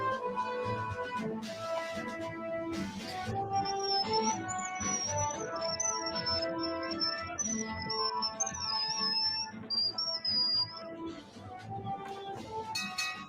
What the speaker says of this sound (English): Just do a bit of ear rape whistling